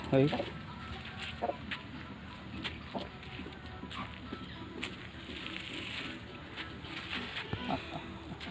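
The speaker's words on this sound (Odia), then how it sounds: "ଏଇଟା ଗୋଟେ କୁକୁଡ଼ା ଦୌଡ଼ିକି ଆସୁଛି।" Aseel parrot-beak breed chickens from Tamil Nadu in an outdoor yard, with faint intermittent clucking under a noisy background and people talking.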